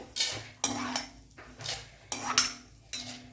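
Fried mint, coriander and chutney ingredients are scraped and lifted out of a pan with a metal utensil for hotel-style chutney, giving several close clanking scrapes in an uneven rhythm, with no talking.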